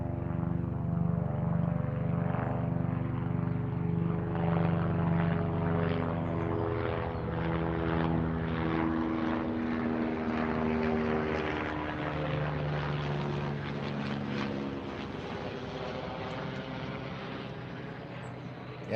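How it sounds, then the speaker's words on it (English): An air ambulance helicopter passes overhead, a steady loud rotor and engine drone with harmonic hum that swells and slowly fades over about twenty seconds, with no talk. "that helicopter that just passed was, I think it was the air ambulance"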